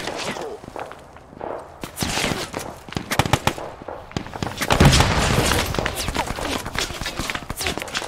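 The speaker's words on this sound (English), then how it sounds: "Shots." Gunshots crack in a World War II battle video game, a scattered run of sharp, loud reports at irregular spacing, some close and some more distant, amid battlefield noise.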